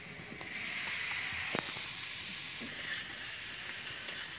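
Fried potatoes and cauliflower sizzle in hot oil, a steady bright hiss with faint clinks of stirring in the background.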